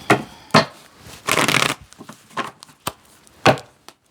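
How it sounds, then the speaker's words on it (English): Tarot cards shuffled by hand in a few short bursts of riffling and slapping, with one longer flurry in the middle and pauses between, close and fairly loud. "that's the last time I'm going to shuffle the cards"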